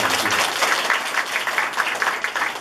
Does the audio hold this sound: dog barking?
no